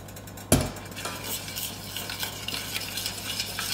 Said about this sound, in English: So we're just going to stir that until the butter is melted.